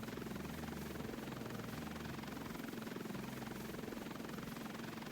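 Helicopter rotors in a Roblox video game thrum in a steady, continuous chop, even and unbroken throughout, with no voices.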